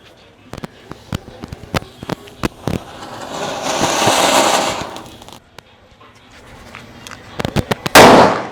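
A firecracker prize sheet bursts in a rapid string of sharp pops and cracks, a quick crackling rush in the middle, then another loud flurry of bangs at the end, close and loud.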